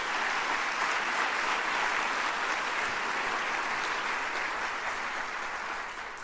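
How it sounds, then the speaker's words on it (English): A large audience at a university president's fall address breaks into sustained applause, a thick, even wash of many hands clapping that fades slightly toward the end. "So let's give them applause too."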